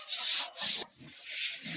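Brush scrubbing a dirty concrete pig pen floor: two strong, close rasping strokes, then softer, continuous scraping.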